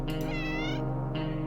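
A cat meows in the survival video game 60 Seconds!, two short onsets then a drawn-out harmonic meow and a brief final call, heard over a steady droning game soundtrack.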